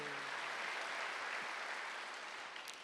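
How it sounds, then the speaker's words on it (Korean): Applause from a church congregation at a Wednesday worship service: steady, dense clapping from many hands that holds for nearly three seconds before easing slightly at the end, with no voices over it. "박수 한번 주세요."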